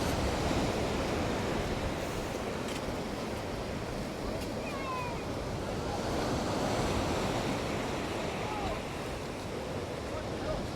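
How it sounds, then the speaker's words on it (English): Surf rolls in continuously at a beach in Nerja, Spain, with steady, loud broadband wash and gusting wind buffeting the microphone throughout, no voices standing out. "As you can see, check out the waves."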